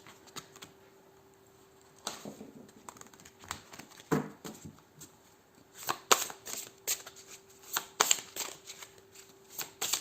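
A deck of tarot cards is shuffled by hand in close, brisk bursts of riffling and flicking, with short pauses between flurries and a steady faint hum underneath.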